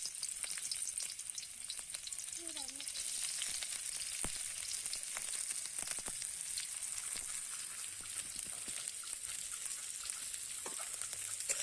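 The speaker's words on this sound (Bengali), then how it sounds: "তো এবার বেগুনটা রান্না করার জন্য কড়াইয়ে পেঁয়াজটা দিয়ে দিচ্ছি" Onion frying in oil in a wok (kadai) for a village-style eggplant curry, a steady close sizzle with crackling pops running the whole time, no voices.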